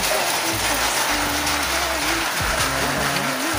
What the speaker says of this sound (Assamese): বহুত বৰষুণ দি আছে